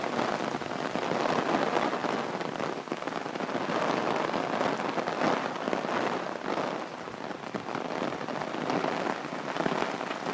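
Steady rain falling outdoors, a dense continuous hiss of drops on surfaces with no let-up, moderately loud and even throughout.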